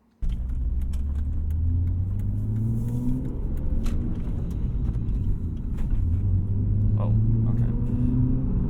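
A 1992 BMW E36 325i drives on the road, its steady engine rumble and road noise continuous and close from the interior, rising and falling slightly with throttle while people talk over it.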